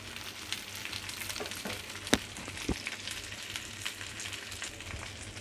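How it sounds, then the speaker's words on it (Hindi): Okra frying in a hot pan for a homemade bhindi keema, giving a steady, close sizzle with a few sharp pops and crackles, and no voices present. "भिंडियों को अब हम फ्राई करेंगे"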